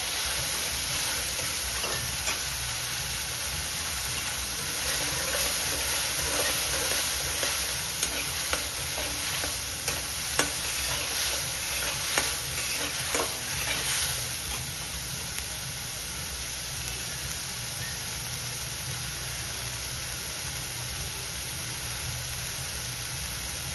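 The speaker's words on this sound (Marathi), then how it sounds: "तेल सुटेपर्यंत मसाला परतून घ्यायचा तेलात." Masala sautéing in oil until the oil separates, a steady hissing sizzle with faint scraping of a spoon in the pan, busier stirring early on before settling into an even fry.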